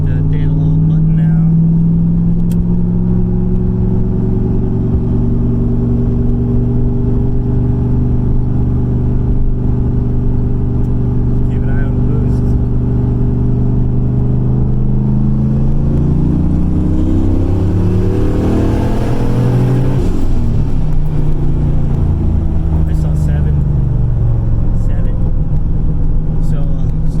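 Turbocharged car accelerating hard in third gear, a loud continuous engine drone that climbs steadily in pitch, heard from inside the cabin without a break.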